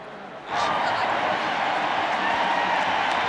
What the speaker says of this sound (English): He's getting a standing ovation. Listen to this crowd.